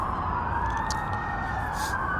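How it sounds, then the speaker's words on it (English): Emergency vehicle sirens on a freeway wail in slow rising and falling sweeps, somewhat distant and sustained above a constant traffic roar. "there are a lot of sirens happening on the freeway right now"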